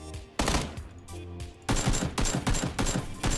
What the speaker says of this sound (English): Someone's shooting burst mode